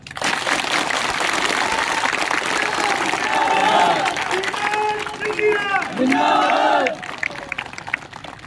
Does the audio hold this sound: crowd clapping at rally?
yes